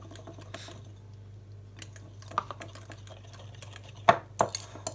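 A fork scrapes and clinks against a bowl while melted butter is stirred into a milk tart mixture. The taps are light and scattered, with a few sharper clicks near the end, over a steady low electrical hum.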